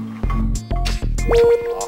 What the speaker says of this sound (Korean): 탄력 비교를 위해 아기 피부와 60대 피부에 물방울을 떨어뜨려 보니